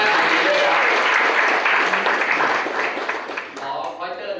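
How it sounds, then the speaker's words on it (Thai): Seminar audience applauding themselves in a training room, loud dense clapping from a close crowd that thins and fades toward the end. "ปรบมือเป็นกำลังใจให้กับตัวเองทุกท่านเลยครับ"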